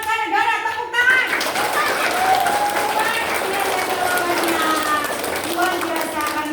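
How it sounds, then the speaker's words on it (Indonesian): Children clapping together at a school session on bullying, a lively, steady patter of many small hands filling the room, with voices chattering and calling out throughout. "Tepuk tangan."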